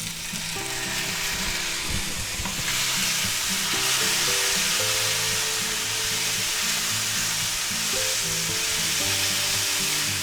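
Two tablespoons of minced garlic hit a hot pan for a beef and vegetable stir fry, giving a loud, steady sizzle that runs unbroken for the whole stretch, with faint tonal sounds underneath.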